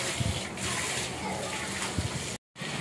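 Water runs steadily from a tap while a face is being washed, a continuous rushing splash broken by a brief cutoff near the end, with a voice talking over it.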